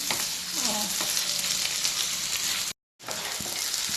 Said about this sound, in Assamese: পিঁয়াজখিনি ৰঙচুৱা হোৱালৈকে ভাজি ল'ব।